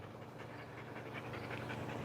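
An Australian Shepherd puppy pants in quick, steady rhythmic breaths, faint and close over a constant background hum, with no talking.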